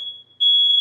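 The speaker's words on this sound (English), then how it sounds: "the smoke alarm." A kitchen smoke alarm set off by a hot skillet during cooking gives a piercing, steady electronic tone. A short chirp comes first, then a brief gap, then a loud, sustained beep close by.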